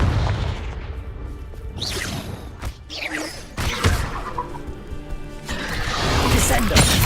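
A Confringo blast spell explodes in Hogwarts Legacy, a sharp burst with crashing, whooshing debris, loud and close, with a voice calling out over the game sounds.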